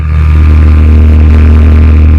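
A struggling air conditioner unit in Arizona drones with a very loud, steady low hum and strong tonal buzz, continuous and close throughout.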